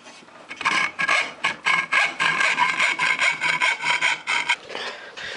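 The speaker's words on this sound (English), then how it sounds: "he saws the metal like a boss" Metal is being sawn by hand for a homemade fish-themed bike build: a steady run of rasping back-and-forth strokes, close and loud, with no talking.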